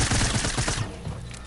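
A quick rattling burst of SMG fire in the video game Fortnite, loud and dense for under a second before tailing off.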